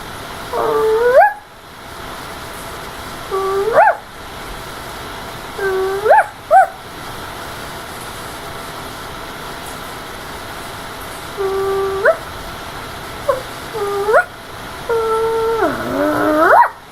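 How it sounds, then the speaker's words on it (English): A dog whimpers and howls in a house, with about half a dozen rising, wavering whines in short bursts and quieter gaps between them. "No, that was my best friend's dog."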